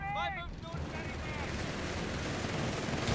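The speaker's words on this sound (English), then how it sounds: "And we got the 30 cal there." Dense .30 cal machine gun fire from the Company of Heroes 3 video game, a sustained broadband rattle of battle noise filling the clip, with a brief game voice near the start.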